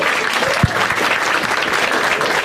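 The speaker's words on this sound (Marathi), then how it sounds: "एकदा टाळ्या होता त्या दोघांसाठी" A stand-up comedy crowd claps for two audience members during a crowd-work set, a brief burst of steady, moderately loud applause with one sharper close clap near the start.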